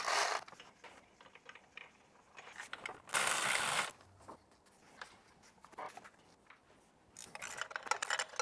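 An electric ratchet with a 14 mm swivel socket loosens bolts on the water pump of a V6 Toyota/Lexus 2GR-FE 3.5L engine, giving several short close whirring bursts between quiet handling noises.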